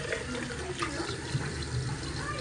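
Water splashes and trickles steadily, close by, as hands cup water from a sink and pat it onto the face during washing, with faint tap-like running water underneath throughout.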